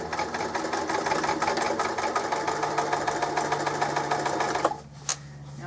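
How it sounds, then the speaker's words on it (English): A sewing machine runs a steady reverse stitch, its rapid needle clatter continuous and close for several seconds before it stops abruptly, leaving a brief faint knock. "So just to start with, I'll do a reverse stitch."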